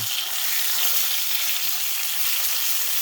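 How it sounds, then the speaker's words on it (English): Onions fry in a pan at a campsite by Slaty Creek near Creswick, giving a steady, close, crackling sizzle that holds even throughout with no talking. "give them a good little fry"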